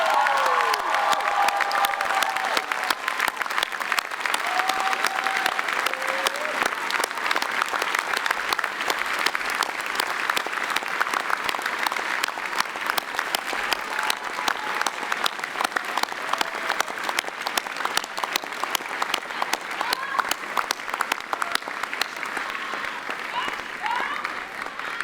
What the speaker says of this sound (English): turn around, please, and applaud the people who helped you get to where you are today.